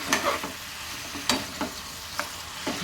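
A ridge gourd chutney mixture, seasoned with turmeric, stirred in a pan: a handful of sharp, separate scrapes of the spoon at irregular intervals over quiet frying, close and fairly soft, with no voices.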